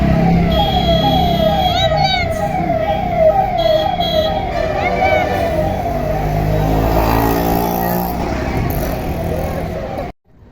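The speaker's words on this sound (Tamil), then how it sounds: "ஆம்புலன்ஸ் வருது பாரு." An ambulance siren wails with a repeating two-tone pattern, loud and close, over steady traffic noise. A voice and adult talk are heard alongside it.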